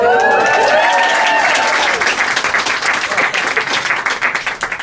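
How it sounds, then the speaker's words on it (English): A bookstore audience at an author event applauds in a dense, close burst of clapping with a brief high whoop at the start. The clapping thins into looser, uneven claps toward the end. "You haven't said anything and they're already applauding."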